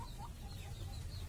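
Laying hens in a small backyard flock, several of them sick with a respiratory rattle, cluck softly in the background, faint and distant over low rumbling noise.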